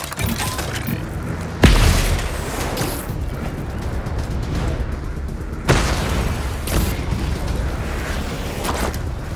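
Two heavy booming railgun blasts in the video game Spider-Man 2, about four seconds apart, each cutting sharply through a steady bed of whirring mechanical game ambience, with no talking.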